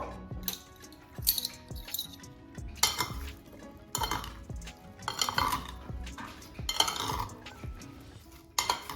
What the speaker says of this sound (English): Last but not least, add blueberries to the bowl